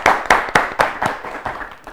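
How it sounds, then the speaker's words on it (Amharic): An audience in a televised children's quiz competition claps for students, a burst of about eight sharp, evenly spaced hand claps close by, fading slightly toward the end. "አጨብጭቡላችሁ።"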